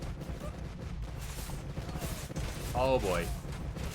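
Dense volley of explosions in an Age of Empires II battle with Genoese crossbowmen, a rapid crackling fusillade of bursts under excited commentary, swelling louder near the end.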